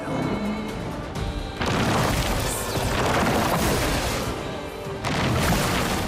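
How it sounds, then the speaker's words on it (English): A boss blowing itself up in the role-playing game Clair Obscur: Expedition 33, a dense, sustained roar of blasts and crashing debris with loud surging bursts throughout and no speech. "when Serpent Fair has absorbed enough AP, it'll outright explode, which will deal damage to itself, but also your party"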